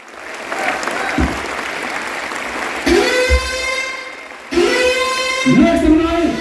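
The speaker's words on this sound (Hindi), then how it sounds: "Let's do a very big hand." An audience at a MODICARE Red Diamond Director recognition ceremony breaks into loud applause in two strong bursts, with music and voices over a busy hall.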